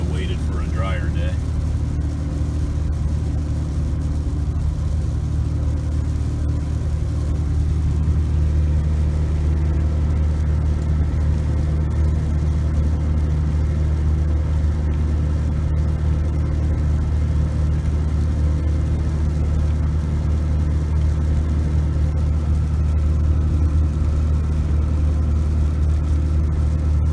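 Vehicle towing a travel trailer on a wet road in rain and strong wind, a constant loud low engine and road rumble with tire hiss droning throughout, close and steady.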